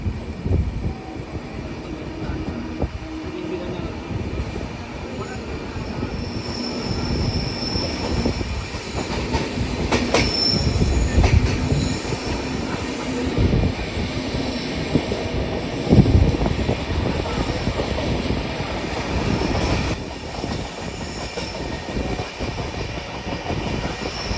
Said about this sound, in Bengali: তো আমাদের ট্রেন এখন তার ফার্স্ট স্কিপ দিতে যাচ্ছে।